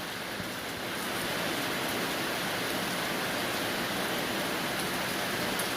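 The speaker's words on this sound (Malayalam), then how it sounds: "അപ്പോഴത്തേക്ക് മഴ വന്നു." Steady, dense rain with a constant wash of hiss, no pauses and no voices.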